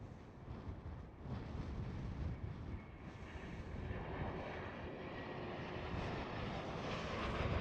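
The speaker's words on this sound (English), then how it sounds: "KLM City Hopper E195 E2 is landing" KLM Cityhopper Embraer E195-E2 jet landing at Amsterdam Schiphol, a faint, distant engine roar that swells gradually with wind rumble, steady and without voices.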